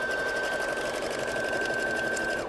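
A sewing machine stitches cord onto fabric scallops in a steady close whir of rapid needle strokes, running evenly throughout with a faint tonal hum above it and no talking.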